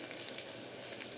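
Carrot, potato, capsicum and onion fry in a pan for oats upma, giving a steady, dense sizzle with light crackles, close and continuous, and no voices.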